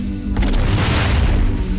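Explosion in the video game Crash Twinsanity: a loud booming blast with a sharp burst and crackling debris, standing alone without speech.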